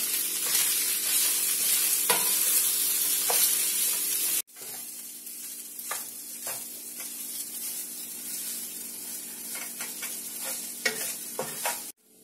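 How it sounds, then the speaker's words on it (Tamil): Capsicum rice being stirred and mixed in a hot pan, a steady sizzle with soft scraping strokes of the spoon, louder at first then dropping to a quieter simmer with occasional clinks. "எல்லாத்தையும் சேர்த்து ஒன்னா மிக்ஸ் பண்ண வேண்டியதுதான் இப்போ"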